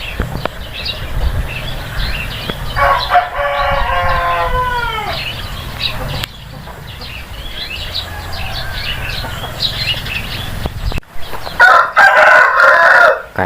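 Chickens sheltering from heavy rain in a dry pen: a rooster crows loudly nearby, followed by scattered clucking from several chickens, with steady rain or background noise underneath and a shrill burst near the end.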